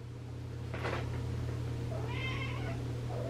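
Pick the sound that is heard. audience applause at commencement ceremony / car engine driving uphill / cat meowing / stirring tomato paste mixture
cat meowing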